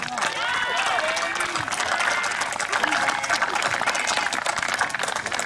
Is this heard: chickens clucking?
no